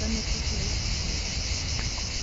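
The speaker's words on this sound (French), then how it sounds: "Hélène, j'entends les cigales" Cicadas chirping outdoors as a steady, dense buzzing drone at moderate level, continuous throughout with faint background rustle.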